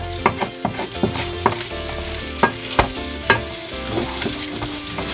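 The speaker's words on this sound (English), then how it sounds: "Let's go back to the rice here. We're going to move this around." Rice frying in a pan while a utensil stirs it, making a steady sizzle broken by a run of sharp scraping and clanking strokes against the pan, close and without talk.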